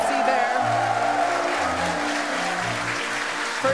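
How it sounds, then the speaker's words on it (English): A crowd in Hawthorne gathered to watch a SpaceX Starship launch reacts with a steady wash of applause and cheering, moderately loud and continuous, with a voice talking over it. "Crowd here in Hawthorne all went ooh at that first view of the blue flames from the booster."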